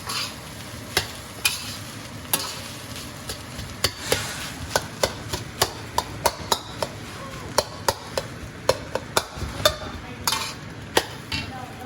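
Crab and Chinese sausage egg fried rice is stir-fried in a wok: a steady sizzle runs under repeated sharp scrapes and taps of a spatula breaking up clumps, close and fairly quiet.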